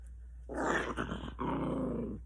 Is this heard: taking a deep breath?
no